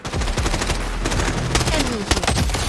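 Rapid bursts of P90 submachine gun fire in the shooter game Blood Strike, loud and close, layered with further shots, impacts and game effects in a dense, continuous volley.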